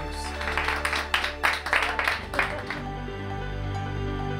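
People applaud in a burst of clapping that lasts about two seconds and then tapers off, leaving a steady low hum underneath.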